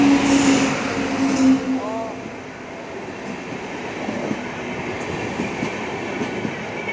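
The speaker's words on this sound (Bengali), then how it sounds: "গাইস দেখতে পাচ্ছ ট্রেন এসে গেছে" A train pulls into a station in Odisha with rumbling wheels and rolling clatter, plus a brief high squeal early on. The sound stays fairly close and steady while people talk nearby.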